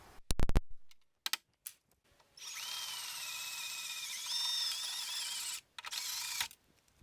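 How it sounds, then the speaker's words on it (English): A drill bores out rivets on a car door bracket of an AMC Eagle during a power window motor replacement. A few sharp clicks come first, then two high, whining drilling bursts, the first long and the second short. "drilling out the bottom two rivets did not loosen that bracket up enough"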